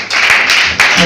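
A church congregation claps and cheers in praise of the Lord, a loud close burst of applause that briefly dips and then surges again.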